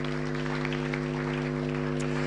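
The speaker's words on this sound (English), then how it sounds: "Can we please applaud ourselves together one more time?" An audience at the launch of the 2018 National Science and Maths Quiz applauds in a steady, dense patter of clapping, heard through a constant electrical hum.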